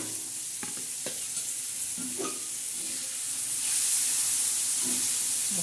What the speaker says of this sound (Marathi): असं आपण चांगलं तळून घेणार आहोत